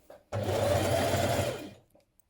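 A sewing machine stitches the facing of a Simplicity 8875 summer dress in one short, steady whirring burst of about a second that stops abruptly, heard alone.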